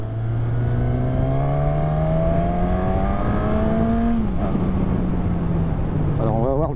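Suzuki 1000 Katana motorcycle engine, around 150 horsepower, revving up loud and close with a rising whine, then easing off as the pitch drops, with wind buffeting underneath.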